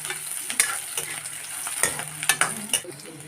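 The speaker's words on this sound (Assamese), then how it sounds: "তাৰ পৰা মই এতিয়া অকণমান ভাজি দিম" Onions sizzle and crackle in a hot pan while browning, with a spoon scraping and stirring at irregular intervals, close up.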